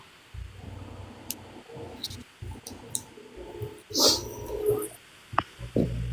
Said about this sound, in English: my grandma's dog up in here